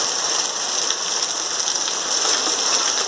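Heavy rain pours steadily at night in Reriutaba, Ceará, Brazil, a dense continuous hiss of drops striking surfaces, with no voices.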